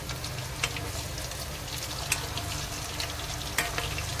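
Potato kofta balls frying in hot oil in a pan give a steady, dense sizzle throughout, with a few soft clicks from gentle turning and no voices.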